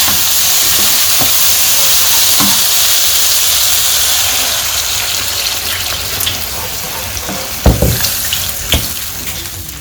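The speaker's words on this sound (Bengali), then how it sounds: "সবজি কষানো হয়ে গেছে, এখন জল দিয়ে দিই।" Water poured into a hot pan of sautéed vegetables in a village kitchen, a loud steady hiss and sizzle fading gradually, with a few clanks of utensils near the end.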